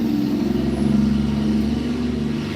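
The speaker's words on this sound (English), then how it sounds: "loud trucks driving by" Loud, steady rumble of trucks driving past nearby, a continuous low engine drone that stays heavy throughout with no talking.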